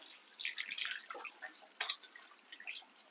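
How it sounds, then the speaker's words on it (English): Hands being washed under a running kitchen tap while cooking, heard as soft, intermittent splashing and dripping water in quiet, uneven bursts with no talking. "But I'm just going to give them one more wash"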